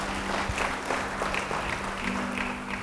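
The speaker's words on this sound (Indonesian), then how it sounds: "Siapa yang mau beri tepuk tangan bagi dia?" A church congregation gives a round of applause, a steady field of scattered claps heard from the room at moderate level, with a low sustained hum running underneath.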